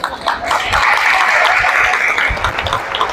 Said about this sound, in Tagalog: Parang walang buhay yung palakpak niyo